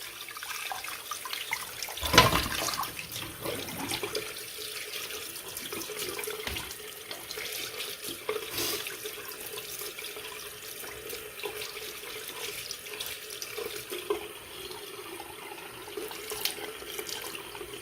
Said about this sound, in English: Just want to rinse it all off.